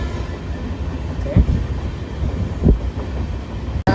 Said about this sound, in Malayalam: ട്രെയിൻ പോകുന്നുണ്ട്